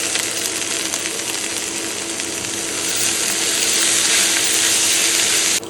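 Drumstick (moringa) greens fry in mustard oil in a wok, giving a steady, dense sizzle with scraping and crackling that swells slightly louder toward the end before cutting off abruptly.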